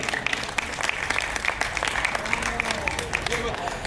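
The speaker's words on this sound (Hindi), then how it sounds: "एक बार सारा सदन प्रवीण भाई के लिए जोरदार तालियां बजाए।" Audience clapping for a poet at a Hindi comedy poetry show, with individual claps popping out of a continuous round of applause and a faint murmur of voices underneath.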